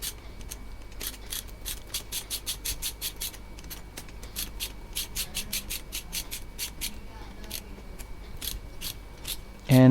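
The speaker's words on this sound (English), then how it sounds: "And for this you need a 12 mm spanner, and there are 4 bolts which will be holding this handlebar." A 12 mm ratcheting spanner loosening motorcycle handlebar bolts, rapid regular ratchet clicks in steady strokes for several seconds, close and fairly loud, ending in a brief thud.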